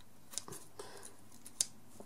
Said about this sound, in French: je prends juste mes ciseaux. Et je viens découper l'excédent de ma paille comme ceci.